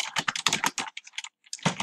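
Rapid clicking keystrokes on a computer keyboard as a link title is typed, close and crisp, with a brief pause before a final burst of keys.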